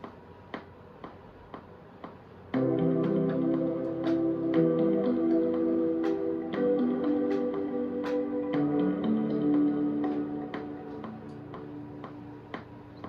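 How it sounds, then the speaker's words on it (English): A soft, shimmering synth melody using an ethereal mallets patch enters after a few seconds of quiet ticking, ringing with sustained bell tones over a steady rhythmic click. "I found here a little cool sound that goes with the previous one. It's called ethereal mallets"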